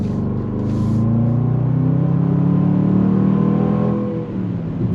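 Engine of a 2022 Range Rover Sport SVR Ultimate on the move, a steady close rumble that swells and holds through the run, then eases briefly near the end with no talking.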